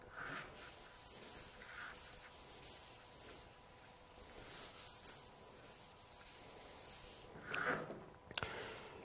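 Hand sanding with a fine 800-grit Festool Vlies abrasive produces soft, close rubbing strokes in a steady back-and-forth rhythm, with a couple of sharper scuffs near the end.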